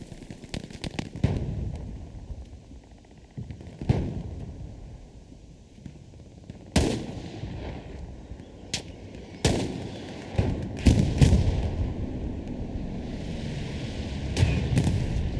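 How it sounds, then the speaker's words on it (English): Irregular 20 mm artillery fire in the World War II shooter Hell Let Loose, with sharp booming reports scattered across the clip, some in quick pairs, over a steady low battlefield rumble. "It's an artillery piece, right? 20 mil artillery."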